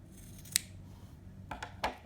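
Scissors snip through yarn while making an amigurumi plush, a few quiet close-up cuts, one crisp single snip followed by two more after a pause, in an otherwise still room.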